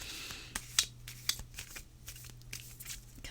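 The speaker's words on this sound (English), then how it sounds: "I'm going to close my eyes and shuffle one more time." Oracle cards from a new deck riffle and flick in soft, quick bursts, with a few sharper snaps, close and quiet.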